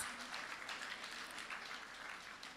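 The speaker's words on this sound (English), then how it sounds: "Please give our President a round of applause." Audience applause for the President at a cattle, sheep and goat farmers' exhibition in Ibadan, a steady, fairly faint wash of many hands clapping with no voices over it.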